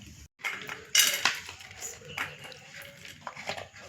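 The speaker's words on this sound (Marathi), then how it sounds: "आता आपण एका प्लेटमध्ये काढून घेऊया" Peanut chutney is scraped from a pot onto a plate with a metal spoon, giving several light, close clinks and scrapes of cutlery against dishware, fairly quiet with no talking.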